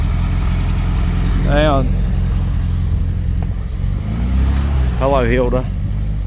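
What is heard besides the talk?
Karmann Ghia convertible engine, put in gear and driving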